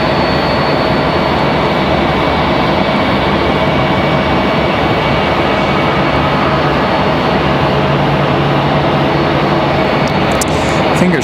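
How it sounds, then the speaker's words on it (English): An Airbus A319 passes just below at Raleigh-Durham airport, a loud, continuous jet roar filling the whole stretch with a brief rustle near the end. "Got that A319 just below us"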